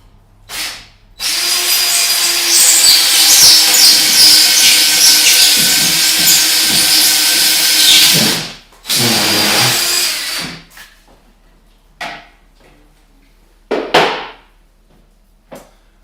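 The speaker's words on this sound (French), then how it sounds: "c'est d'avoir une mèche d'environ 12 pouces par 1 pouce de large pour pouvoir percer vos rondins" A power drill with a 12-inch by 1-inch bit bores through a log during wall assembly, running loud and steady for several seconds, pausing, briefly resuming, then short bursts and knocks as it stops.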